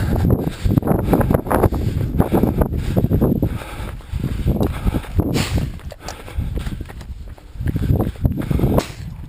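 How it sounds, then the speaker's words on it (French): Strong wind buffets and roars in gusts on a trail climb near Fontaine de Vaucluse, with heavy low rumbling surges rising and falling over several seconds. "Avec beaucoup de vent"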